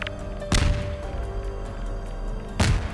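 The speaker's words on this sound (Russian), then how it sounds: "Вам там взрывы слышно?" Two booming explosions in Garry's Mod on a FNAF pizzeria map, each a sharp loud blast roughly two seconds apart over a steady low game hum.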